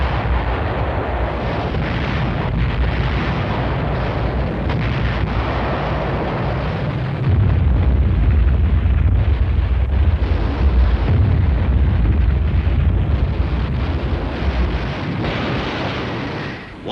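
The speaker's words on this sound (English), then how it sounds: "Once its rockets were fired, the vulnerable rocket launchers quickly left the area." Rocket launchers firing salvos of rockets in a 1951 Pacific war film: a continuous, heavy roar of blasts and rumbling detonations that grows louder and denser partway through, with no voices.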